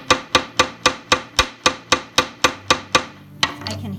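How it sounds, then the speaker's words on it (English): Metal wire for a caged bead pendant being hammered: about eleven sharp, evenly spaced blows, loud and close, followed by a pause and a scraping, rubbing sound. "Now, when you hammer it, you can actually get thicker sections"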